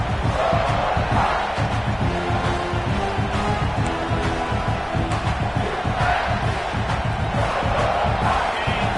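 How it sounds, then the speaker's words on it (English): A home crowd roars continuously at a college football game, a dense wall of cheering and shouting with rising yells, loud and sustained throughout. "this home crowd is fired up and ready to make a difference today"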